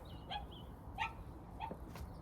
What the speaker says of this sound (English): oh God, woke up the dog